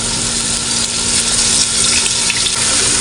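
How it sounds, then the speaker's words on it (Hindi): Water added to onions frying in a cooking pot with ginger-garlic paste gives a steady, loud hiss and sizzle that continues unbroken and close up. "साथ में थोड़ा सा पानी लगा देंगे"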